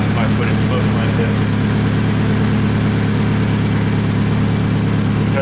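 A Toyota Camry engine idles inside a repair shop with a steady low drone and a faint rhythmic pulse; the car has an exhaust leak and is smoking after a broken timing belt repair.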